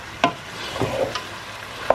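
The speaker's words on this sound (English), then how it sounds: "fry for another 2 or 3 minutes." Stirring in a frying pan while cooking a meat stew with onions and tomatoes, a few distinct spatula scrapes over a soft, steady sizzle, brief and close.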